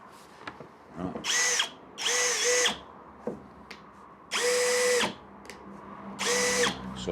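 Cheap brushless drill driver, new out of the box, whirs through four bursts of a second or so each, separated by short pauses, with a rising whine as each run spins up, close and loud with no talking.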